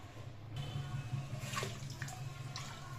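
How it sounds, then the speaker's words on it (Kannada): Two glasses of water are poured into a cooking pot of soaked rice for tomato bath, a soft splashing trickle that starts after half a second and runs faintly and continuously over a low kitchen hum. "ಎರಡು ಗ್ಲಾಸ್ ನೀರು ಹಾಕ್ಕೋತಾ ಇದ್ದೀನಿ"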